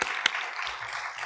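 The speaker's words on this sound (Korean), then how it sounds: "선교사님 나오실 때 우리 격려의 박수로 우리 환영하시겠습니다" A short stretch of steady applause, a church congregation welcoming a missionary, clapping continuously at moderate loudness.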